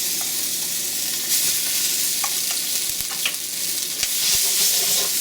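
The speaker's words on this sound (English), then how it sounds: "Just going to fry this around a little bit" Tomato paste fries in oil in a pan for lamb stock, giving a steady, close sizzle throughout, with scattered light scrapes and taps from stirring.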